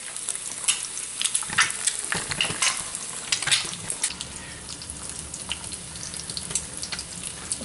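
Quail eggs and chicken eggs fry in a pan with a steady close sizzle, punctuated by scraping and clinking of a utensil against the pan.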